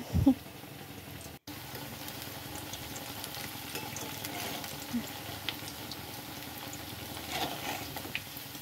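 Cabbage pakoras fry in hot oil, giving a steady low sizzle and crackle that runs throughout at moderate volume, with a brief clatter at the start and one short dropout.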